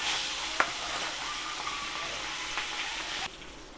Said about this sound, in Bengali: আমি মাছগুলো এক এক করে ভেজে নেব।